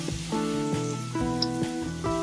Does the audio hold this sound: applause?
no